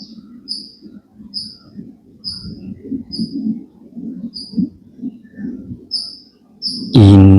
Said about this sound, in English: enjoying the parrots